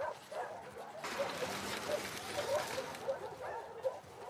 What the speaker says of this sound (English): All these fucking dogs, bro.